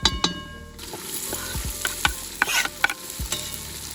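Onion frying in rendered fat, sizzling, with scraping stirs and a few sharp clinks of a utensil against the pot, close by.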